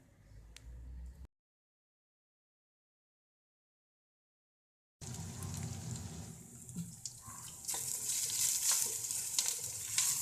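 Onions fry in oil in a pan with a soft, steady sizzle and occasional stirring scrapes, broken by a long stretch of silence before the hiss resumes, louder and brighter.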